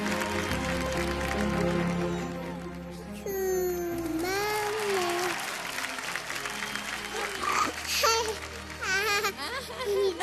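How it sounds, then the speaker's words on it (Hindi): A studio audience on the TV dance show Dance India Dance Super Moms applauds loudly as a contestant's mother is called to the stage, with music and voices mixed over the clapping. "एक बार जोरदार तालियां हो जाए दीपिका की मम्मी के लिए"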